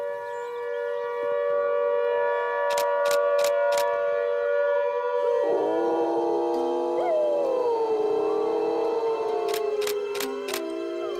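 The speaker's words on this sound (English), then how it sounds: "With a double whammy of howling wolves," Several wolves at a wildlife park howl together in long, sustained overlapping tones that shift and slide in pitch, with a few camera shutter clicks in between.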